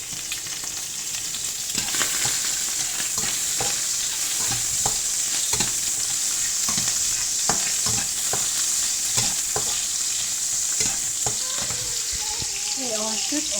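Shrimp sizzle in hot oil for beef and shrimp stir-fried noodles, a steady close frying hiss broken by frequent clacks and scrapes of stirring, with a voice faintly heard near the end.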